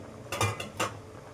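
A utensil stirs Bengali fish curry with potato, eggplant and lentil dumplings in a pot, producing a few quick metallic scrapes and knocks in close succession, alone.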